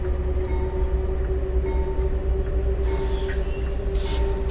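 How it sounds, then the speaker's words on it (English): A CP AC4400 diesel locomotive under way in the Train Simulator 2020 game gives a steady, loud low rumble with a constant tonal hum and occasional brief higher hiss or squeal, continuous throughout with no talk. "Locomotive is now moving."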